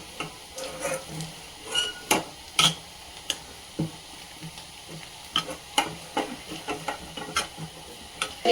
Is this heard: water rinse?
no